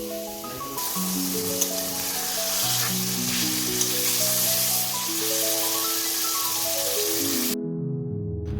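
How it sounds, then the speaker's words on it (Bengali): Paneer pieces fry in a pan with a loud, continuous sizzle and crackle, steady throughout, with background music playing along. "এদিকে আমি পনিরগুলো ভেজে নিচ্ছি"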